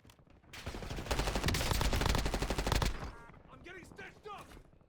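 A TAQ 56 rifle in a first-person shooter game fires a loud, dense burst of rapid automatic gunfire lasting about two seconds, then the noise drops away and a brief voice is heard.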